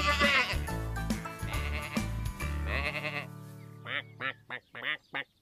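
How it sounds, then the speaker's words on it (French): Cartoon sheep near straw bales bleat in a close, bright series of calls, a long wavering bleat giving way to several short, quick bleats, with a low musical backing under the first half. "personne ne remarque que les moutons s'approchent des bottes de paille"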